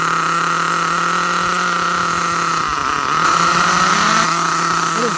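A nitro RC car engine, a Dynamite .28 on a ready-to-run car, runs rich during break-in with its wheels up, holding a steady high buzzing whine that wavers briefly midway and then resumes, close and loud.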